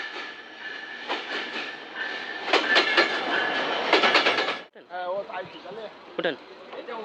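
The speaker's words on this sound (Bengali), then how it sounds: "ট্রেনটি চলে এসেছে আমরা এই ট্রেনে উঠবো" The Sagardari Express pulls into a station with a steady rumble and rhythmic clickety-clack of wheels that cuts off abruptly, followed by a brief squeal and hiss as it stops.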